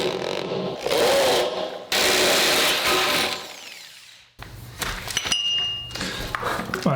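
A power drill fitted with a 1.5 inch bit bores through wood while building a ninja training gym, with loud grinding bursts, a brief stop and a rougher, rattling second stretch, close up with no talk.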